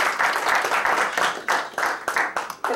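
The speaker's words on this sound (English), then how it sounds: "I think we ought to give a round of applause" A short burst of applause from a press conference audience, dense clapping that rises and falls in waves over a few seconds.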